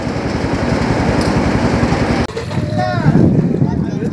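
Engine boat travelling on the Jadukata river, a loud chugging motor with rapid regular pulses that cuts off abruptly halfway, after which water and a voice take over.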